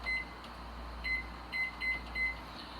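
A microwave keypad gives a few short, clear electronic beeps in an irregular run while a timer is set, heard over a steady low hum in a quiet kitchen.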